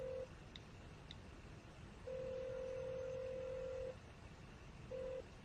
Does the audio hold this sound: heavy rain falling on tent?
no